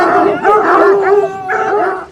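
French tricolour hounds bay, howl and yelp together in a kennel, a loud continuous chorus close by.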